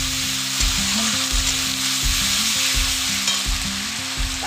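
Fish paste being stirred in hot oil in a frying pan, a steady sizzle with rhythmic scraping strokes of the spatula repeating roughly every half second, close and loud, with no talking.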